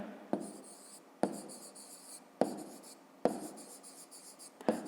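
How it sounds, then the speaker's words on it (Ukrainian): A pen or pencil writes an answer to a fifth-grade maths exercise on paper, making close, quiet scratching strokes broken by five sharp taps as each stroke starts, with no one speaking. "Пишемо відповідь."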